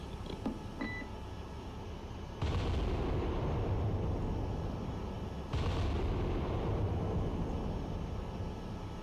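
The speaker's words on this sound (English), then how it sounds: "Guns engaging." Forward battery guns of a battleship firing in the naval game Cold Waters: two heavy booming blasts a few seconds apart, each with a sustained rumbling roar over a constant engine and sea background.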